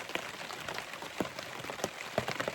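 Steady rain falling around a campsite by the Yukon River, a dense soft patter with scattered sharper drops hitting a nearby surface, continuous and close.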